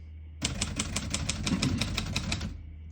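Rapid, steady keystrokes clack from a 1947 Royal Quiet Deluxe portable manual typewriter, a run of crisp, evenly spaced close-up strikes with no talking.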